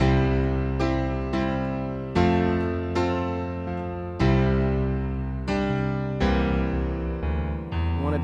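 Halting blues piano chords struck one at a time by a beginner with uneven gaps, a hesitant, plodding pattern played alone, each chord left ringing before the next.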